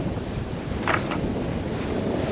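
Strong wind buffets a microphone on a sailboat in rough water on Chesapeake Bay, a steady loud roar throughout with a couple of brief brighter gusts or splashes near the middle.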